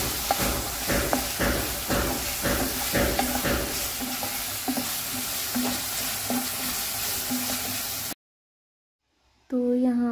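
Spices and mushrooms sizzle in a hot pan while a utensil scrapes and stirs in a regular rhythm for several seconds. The sound then cuts to silence, and a brief voice follows.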